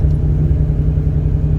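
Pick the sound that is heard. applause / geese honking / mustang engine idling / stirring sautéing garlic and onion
mustang engine idling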